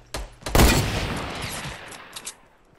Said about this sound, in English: he's shooting at somebody else